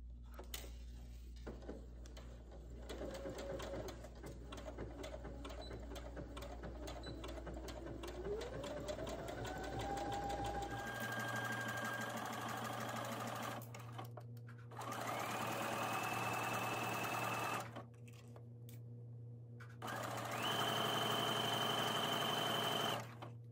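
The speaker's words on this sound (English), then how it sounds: "Let's set the machine to a small stretch stitch." A sewing machine runs a small stretch stitch along a back neckline binding at 5/8 inch, a steady close mechanical whir that carries on through the whole span, its pitch rising in stages as the speed picks up.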